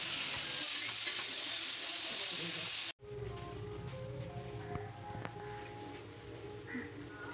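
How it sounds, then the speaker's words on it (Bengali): Fried marinated chicken pieces tipped into a pan of spice masala for chilli chicken: a loud, steady sizzle hisses, then it cuts off and close spatula scrapes and clinks stir over a lower, continuous frying crackle. "তারপরে আগে যে ম্যারিনেট চিকেন যেগুলো ভাজা হয়েছিল ওগুলো এখানে দিয়ে দেওয়া হলো"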